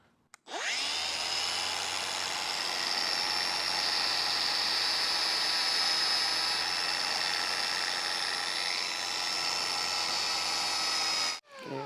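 A steady, loud high-pitched whine of a grinder cleaning rusty bolt threads on a 1949 Willys truck, spinning up sharply, holding constant for about eleven seconds, then cutting off.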